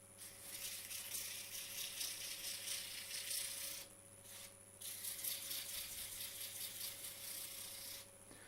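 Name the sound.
sanding wood with 60 grit sandpaper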